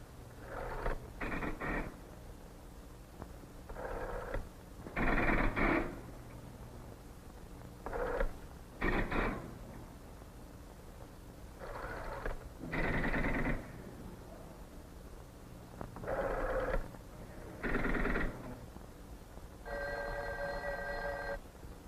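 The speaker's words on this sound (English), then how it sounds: "let's watch another call as it progresses step by step through the demonstration equipment" Demonstration telephone exchange switching equipment handles a landline call, with repeated bursts of clicking and buzzing stepping action separated by pauses, then a steady tone at the end.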